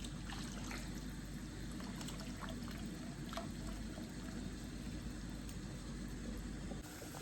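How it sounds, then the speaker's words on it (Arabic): Pot of water coming to a boil on a gas stove for pasta, giving a steady low rumbling bubble with a faint trickling hiss throughout, close and continuous with no talk. "وهذا صار يغلي المي"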